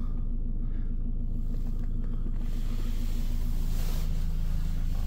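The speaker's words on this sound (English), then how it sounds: "So as you can see, we've got the vehicle started." A Land Rover Defender Chelsea Truck edition idles after starting, a steady low engine rumble and drone that stays loud and constant throughout with no voices.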